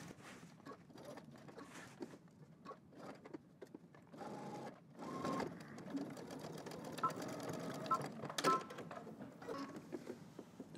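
A sewing machine sews a side split on a shirt made from Simplicity pattern 9758, running steadily for the whole stretch at moderate, even loudness with small mechanical rattles.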